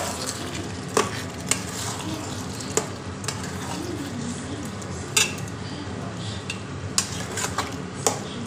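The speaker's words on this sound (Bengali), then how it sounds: "এবার আমি এর মধ্যে এই যে ভেজে রাখা মাংসের টুকরোগুলো অ্যাড করে দেবো, দিয়ে আবারও ভালোভাবে এটাকে মিক্স করে নেব" Fried chicken pieces stirred into chilli sauce in a pan for dry chilli chicken, with steady scraping and sizzling plus sharp utensil clinks against the pan at intervals, close and fairly loud.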